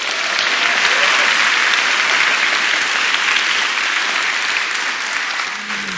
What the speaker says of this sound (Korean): 이렇게 많은 분들이 뜨거운 박수로 환영해 주셔서 정말 감사합니다